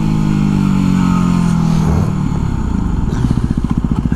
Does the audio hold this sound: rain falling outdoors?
no